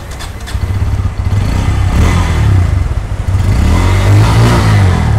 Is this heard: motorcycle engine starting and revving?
yes